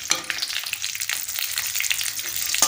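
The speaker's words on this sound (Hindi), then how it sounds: "हल्का सा रोस्ट करेंगे इन्हें देसी घी में।" Cashews and almonds roasting in hot desi ghee in a pan for sweet rice, a close, steady crackling sizzle with no talk.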